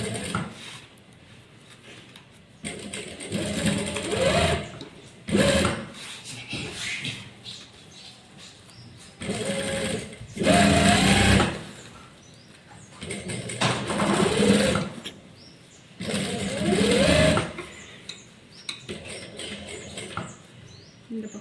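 A sewing machine stitches a fabric lunch bag in repeated bursts of rapid mechanical whirring, each lasting a second or two, with pauses between them. It is close and clear, with faint handling sounds in the gaps.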